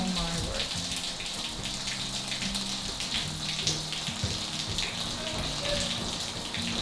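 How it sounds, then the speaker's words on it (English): Continuous splashing and dripping water, like a steady leak from a kitchen ceiling pattering onto surfaces, with a constant hiss and no talking. "It's leaking everywhere up here."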